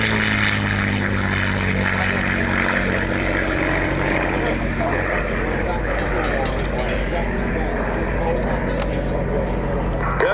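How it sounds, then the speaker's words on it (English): Loud, steady drone of a P-51 Mustang's V12 piston engine and propeller heard from inside the cockpit at an air show, a constant close roar with a faint voice underneath. "the V12 sounds incredible."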